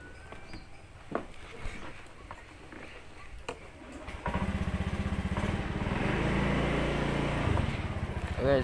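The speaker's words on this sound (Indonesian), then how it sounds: "Guys, motornya." A motorcycle engine starts partway through and settles into a steady, close, rumbling idle and revving that continues to the end, after quieter handling noises at the start.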